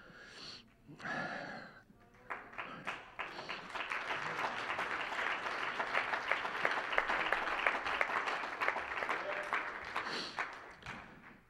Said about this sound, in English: That's right, Brother Randy, you can clap.